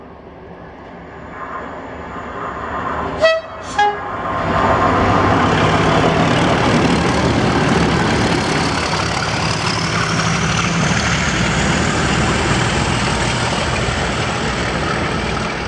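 DRS freight train 069G, the 21:10 service to Inverness, passes Blair Atholl. Two sharp horn blasts are followed by a loud, sustained diesel roar and wheel rumble as it goes by close, with no voices.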